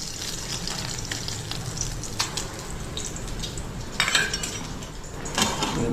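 Egg added to potato curry frying in a pan, a continuous close sizzle with utensil clinks and scraping from stirring, and a brief louder burst partway through.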